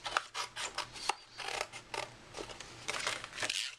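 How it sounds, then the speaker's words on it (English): Scissors snip through paper panels for a soap holder craft, a quick series of close, crisp cuts repeating in an uneven rhythm with no talking. "now I'm going to take my scissors and cut out all of these parts right here"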